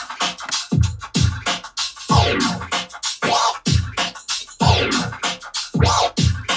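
A DJ controller platter in vinyl mode performs a baby scratch, back-and-forth record-scratch sweeps repeating in a steady rhythm, loud and close with no talk.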